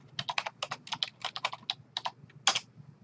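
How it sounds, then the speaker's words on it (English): Quick key presses on a computer keyboard while a title is typed into an Excel spreadsheet, a steady patter of crisp close clicks ending in a louder space-bar tap. "I'll start by typing the name and a space."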